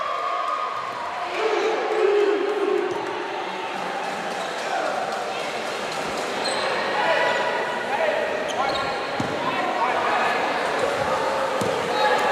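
Crowd noise at an NJCAA Region 23 women's college basketball playoff quarterfinal, a steady murmur of spectators with ball bounces and scattered shouts under a commentator's talk.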